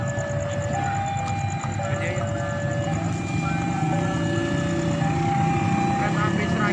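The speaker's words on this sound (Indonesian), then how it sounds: "Keretanya akan segera melintas." Serayu passenger train from Tasikmalaya passing, a continuous rail rumble with tonal horn or whine lines and wheel noise, moderately close; a voice talks faintly alongside.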